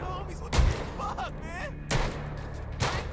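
Sharp gunshots ring out three times at irregular intervals, loud and booming, with faint background sounds between them, during a zombie mode in the video game GTA V.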